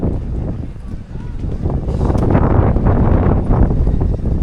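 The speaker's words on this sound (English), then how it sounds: "And the wind's got up." Wind gusting steadily across an outdoor spring fair in Laughton, Sussex, where bicycles, motorbikes and classic cars are on show, a broad continuous rush buffeting the microphone with people talking faintly underneath.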